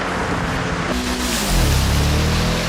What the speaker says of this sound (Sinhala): සුට්ටි රැල්ලක් ඇති වෙනවා වාහනේ යද්දී.